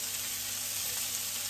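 Onion sizzling and frying in melted butter in a pan, a steady close crackling hiss throughout.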